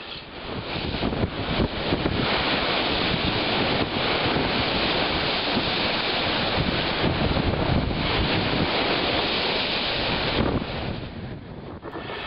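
Waves crash and surf roars along the Lake Ontario shore at Port Credit during a spring storm, with strong wind buffeting the microphone in a loud, continuous wash.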